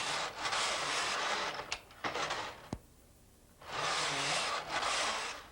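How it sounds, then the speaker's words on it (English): Punch card knitting machine with its carriage sliding across rows: two long, loud whooshing sweeps with clicks and a sharp snap between them, then a quiet pause before the next pass. "We go over and change to our second color, and we knit 2 rows."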